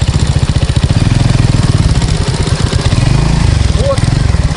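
Sport motorcycle engine idling and rolling slowly, a loud, steady low pulsing throb close by, with a voice talking over it.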